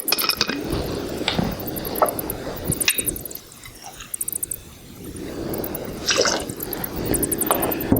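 One ounce of vodka is poured into a cocktail already holding vermouth, giving close wet trickles and drips with a few glassy knocks and a brief quiet lull midway.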